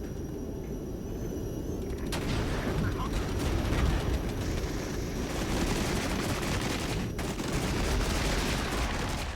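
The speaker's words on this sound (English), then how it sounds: "I've got an airstrike coming in." In the war video game Regiments, an airstrike hits with dense, rolling explosions and gunfire that merge into a continuous rumbling barrage, heavy and sustained for the whole stretch.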